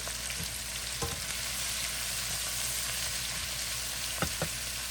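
Cabbage stir-frying in a hot pan, a steady close sizzle and crackle with a few scraping stirs and clanks, continuous and fairly loud with no talking.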